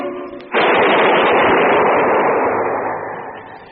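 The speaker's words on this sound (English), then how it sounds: "That was the shot that killed Harry Lime." A single gunshot in a Harry Lime radio drama: a sudden loud crack that opens into a long, roaring reverberant decay lasting several seconds, with faint music and tones before it.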